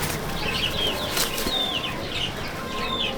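High-flying pigeons are released from a loft in Pachgram, Murshidabad, with bursts of wing flapping and quick chirping bird calls that repeat over steady background noise. No one speaks.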